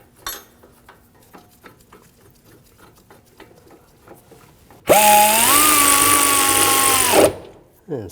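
Bolts on a Volvo S60 front brake bracket snugged down with a power tool: quiet clicks and handling, then a loud whirring burst of about two and a half seconds that rises slightly in pitch before stopping.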